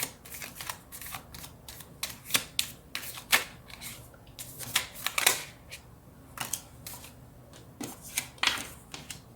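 Tarot cards shuffled for a reading, a rapid run of crisp riffling flicks and slaps close by, in bursts with short pauses, no voices.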